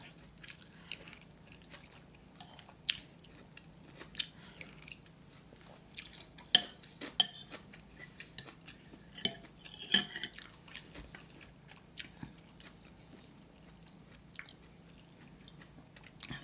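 Someone eats rice vermicelli noodle soup with pork liver, with soft chewing and slurping and scattered sharp clinks of a spoon or bowl against a quiet background, no talking.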